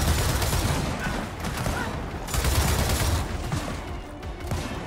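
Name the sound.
gunfire in the video game Gears of War 4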